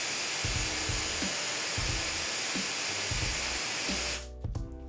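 Wolfbox MF200 battery-powered turbo fan blowing at full power, a loud, steady, high-pitched whooshing roar with faint tapping underneath, stopping abruptly near the end.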